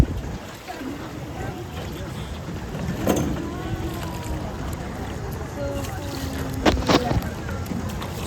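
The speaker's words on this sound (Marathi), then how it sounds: "तर आम्ही आता बोटिंगमध्ये बसलोय." A rowboat moves across the water in Ninh Binh, Vietnam, with steady water and wind noise, occasional paddle knocks and splashes, and faint voices in the background.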